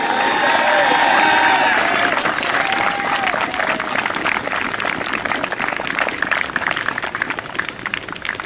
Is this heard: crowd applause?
yes